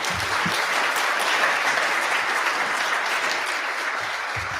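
Sustained, loud audience applause fills a hall at a celebration-of-life event for Judge Joel Flaum, welcoming a speaker to the podium with steady clapping that holds evenly throughout.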